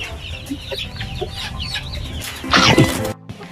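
Large gamecocks bred for fighting cluck in short, scattered calls close by, with a louder flurry of clucks and scratchy movement near the end before it cuts off.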